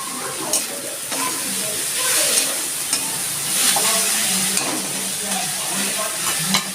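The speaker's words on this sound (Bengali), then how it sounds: "পেঁয়াজটা যাতে তাড়াতাড়ি ভাজা হয় তার জন্য।" Onions fry in oil with a little turmeric and salt for a chickpea bhuna, a continuous close sizzle broken by regular scraping stirs of a spatula.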